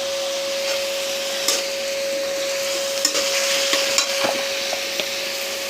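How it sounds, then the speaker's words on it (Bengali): Garlic and ginger paste sizzle steadily in a pan for a curry with prawns and taro, a constant hiss broken by scraping stir strokes near the end, with a steady hum running underneath. "এখন দিয়ে দিচ্ছি রসুন বাটা, সামান্য একটু আদা বাটা"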